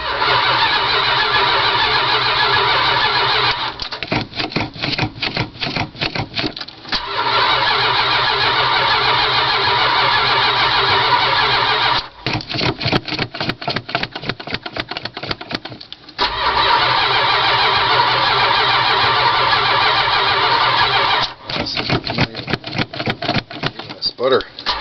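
A 1978 Dodge Ramcharger with no working choke cranks on a cold start, the starter churning in long loud rhythmic stretches broken by short pauses and rapid chattering spells, close up, without catching to a steady idle.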